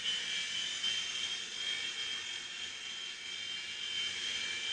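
A small helicopter comes in for a smooth landing, giving off a steady, high-pitched whirring whine from its rotor and motor. The whine stays close and constant throughout, with no talking.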